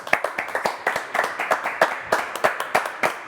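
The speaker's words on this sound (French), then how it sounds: "après, on lui applaudit quand même." A small audience claps in a steady, rhythmic run of distinct hand claps, fairly close and sparse rather than a dense roar, lasting a few seconds with no voices over it.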